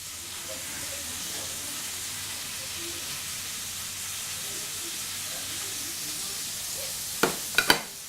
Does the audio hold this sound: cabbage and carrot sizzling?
yes